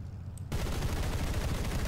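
Rapid sustained burst of aircraft machine gun and cannon fire from the A7M1 fighter in War Thunder, a dense continuous rattle starting abruptly after a short quiet moment and staying loud to the end.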